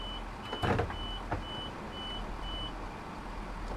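A Midland Turbostar train's door beeps in Train Sim World 5, a faint, evenly spaced series of short high tones over a low steady idle hum.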